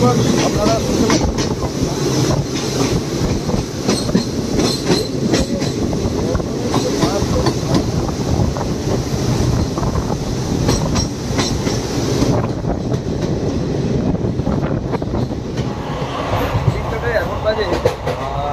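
Teesta Torsa Express passenger train running out of Sealdah near the Farakka bridge, a loud continuous rumble with rhythmic clattering of wheels over rail joints and wind buffeting throughout.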